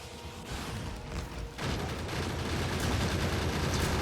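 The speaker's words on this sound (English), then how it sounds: "Let's go with the grenade first." A grenade explodes in a video game: a sudden broadband blast after a quieter stretch, followed by a sustained, loud rumbling roar that continues to the end.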